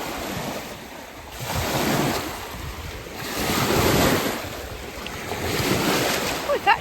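Lake water laps along a shore in slow, repeated swells, with steady wind rumbling across the microphone in the open air.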